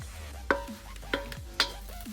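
Shrimp fry in a pan of oil for paella, with a low steady sizzle and three sharp scraping stirs at regular intervals, close and alone.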